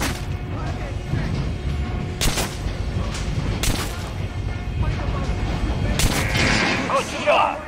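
Gunshots ring out at a shooting range in Metro: Last Light, firing at training dummies, with several sharp reports spaced apart over a constant ambient bed and a voice speaking in the background.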